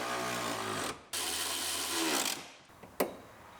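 Plastic and metal clunks from a seatbelt retractor being dropped back into its mount inside an Acura RDX's rear quarter trim area, with a sharp knock near the end amid broadband rattling handling noise.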